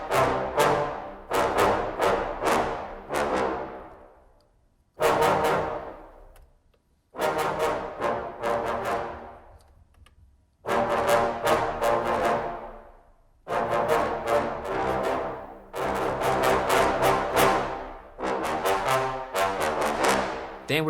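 Short, detached brass notes from trombones, played as separate clipped phrases with brief gaps of silence between groups, each note cutting off sharply and ringing only a moment, clear and fairly close with no talking.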